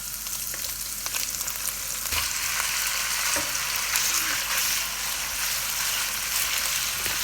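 Chicken stir-fries over a high flame for Chinese fried rice, a steady loud sizzle and crackle with occasional scraping stirs of the pan throughout.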